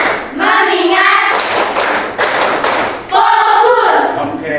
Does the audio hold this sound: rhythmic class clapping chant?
yes